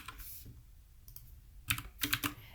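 Short bursts of keystrokes on a computer keyboard while typing CSS code, a few clustered clicks near the end after a quiet pause, close and fairly soft.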